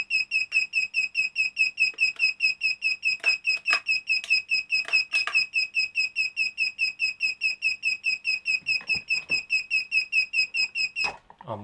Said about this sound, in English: Why are you beeping?